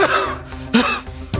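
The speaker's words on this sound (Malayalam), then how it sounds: "ഒന്ന് ചുമച്ചേ ഉള്ളൂ, അപ്പഴത്തേനും ഓടി വന്നു." An elderly man at home coughs and clears his throat in a few harsh, close bursts separated by short pauses.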